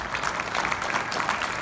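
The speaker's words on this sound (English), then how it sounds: "Give him a round of applause, please." Audience applause at a high school hall of fame ceremony, a soft, distant patter of many hands clapping steadily for under two seconds.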